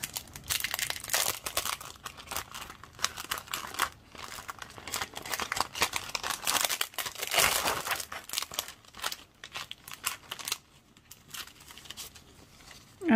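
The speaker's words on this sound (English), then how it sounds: "This is some foils, but they're just the sheet foils." Thin nail art sheet foils handled up close, a continuous loud crinkling and rustling with brief pauses and irregular crackles, without talk.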